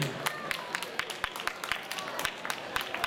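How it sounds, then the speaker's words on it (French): Crowd at the closing of the Casetas de Pau festival applauding a municipal official, scattered sharp claps in an irregular rhythm over a background of murmuring voices. "Applaudissements s'il vous plaît"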